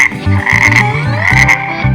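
Frog croaks, loud and close, repeating in a quick steady rhythm of short pulses over a brief stretch, with no voices.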